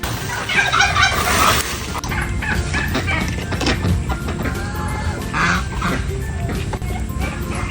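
Turkeys in a damaged pen after a typhoon gobble and cluck in a busy flock, repeated loud calls overlapping against outdoor background noise.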